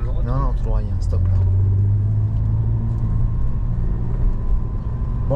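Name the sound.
Renault Avantime V6 engine while driving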